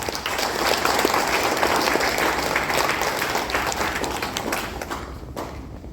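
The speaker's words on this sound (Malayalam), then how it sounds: "ഒരു കൈയടി കൊടുത്ത്" An audience at a parish gathering breaks into sustained applause, dense clapping from many hands, steady and fairly close, then thinning out and fading near the end with no talking over it.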